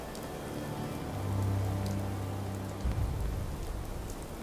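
Rain in the video game Fallout 4 patters steadily on a surface with a constant hiss, while a low tonal hum swells midway and a soft thump follows.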